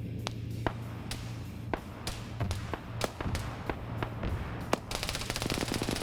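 Overhead fire from a Warrior vehicle in the game Hell Let Loose: a steady series of sharp, fairly distant reports in rapid succession, with a denser clatter of shots toward the end over low rumbling battle ambience.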